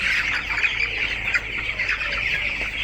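Many broiler chickens cluck and chirp together in a steady, busy chorus that continues throughout the clip, close by, with no talking.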